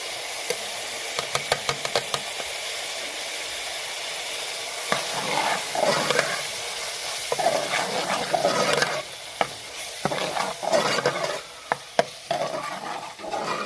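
Spices such as turmeric, salt, cumin and red chilli roast with cabbage in a pan, with steady frying hiss, a quick series of spoon taps, then longer scraping stirs and a few knocks, close up, without speech.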